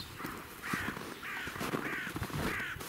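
A crow caws four times in a steady rhythm, moderately distant, with faint background noise.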